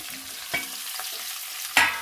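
Radish and eggplant fry in a pan, a soft steady sizzle broken by two sharp scraping stir strokes of the spatula, with no talking.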